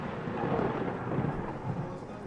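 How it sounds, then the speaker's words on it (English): Thunder: a steady, dense low rumble fills the whole stretch, with no clear breaks or separate cracks. "That was thunder?"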